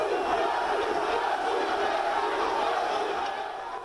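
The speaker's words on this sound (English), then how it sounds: "Tears had turned into smiles in front of a crowd chanting his name." A large crowd in Paris chants Lionel Messi's name, a dense, steady roar of many voices blending into a continuous chant that fades slightly at the end.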